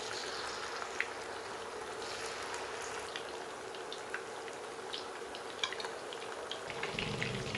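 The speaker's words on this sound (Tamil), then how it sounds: "எண்ணெய் சூடானாக்கில் மீடியம் ஃப்ளேமில் வச்சுட்டு நம்ம பொரித்து எடுத்துக்கலாம்." Garlic-marinated fish frying in hot oil over a medium flame, giving a steady, fairly quiet sizzle with scattered small pops and crackles throughout, no voices.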